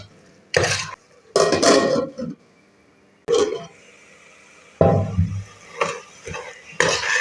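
Onions with a little salt sautéing in a pan for a sprouted horse gram curry, stirred in several loud bursts of scraping and clatter separated by quieter stretches of low sizzle, close by.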